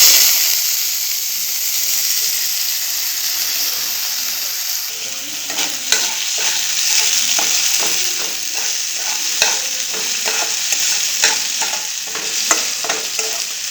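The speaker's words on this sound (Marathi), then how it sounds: "आता त्यामध्ये आपण डाळ टाकूया." Dal tossed into a pan of frying garlic for a rustic village-style brinjal amti: a steady bright sizzle with a burst of crackling as the lentils land, followed by repeated scraping stirs clinking against the pan, no voices.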